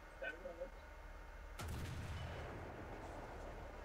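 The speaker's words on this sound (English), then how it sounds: "let's repair that tank and shoot it with the MG" A single heavy boom in the video game War Thunder, aimed at a T-34 tank, erupting sharply about midway and followed by a rumbling tail over faint background noise.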